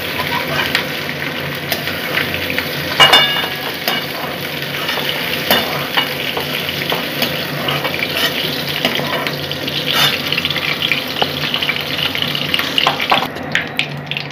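Potatoes frying in oil in a pan while cooking a katla fish curry with onion greens, a continuous close sizzle broken by frequent spatula scrapes and knocks.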